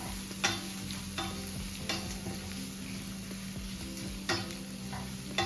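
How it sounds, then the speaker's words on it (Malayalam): Green chilli mix is stirred and heated in a pan over a low flame for moru rasam, giving steady repeated scraping strokes over a soft continuous sizzle, close up with no talking. "നന്നായി ഇളക്കി അതിൻ്റെ പച്ചമുളകൊക്കെ പോകുന്ന രീതിയിൽ ഒന്ന് നന്നായി ചൂടാക്കി എടുക്കുക."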